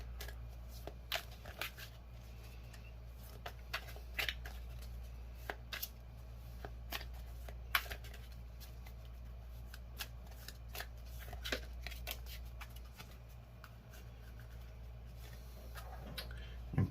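Tarot cards being shuffled by hand, a quiet run of soft riffling flicks and taps close up, repeating irregularly over a low steady hum with no talk.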